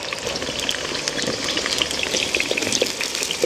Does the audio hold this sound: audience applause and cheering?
no